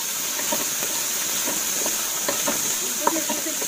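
Samosa stuffing with raisins, cashews and boiled peas is stirred in a hot pan, giving a soft hissing sizzle marked by repeated light spatula taps and scrapes.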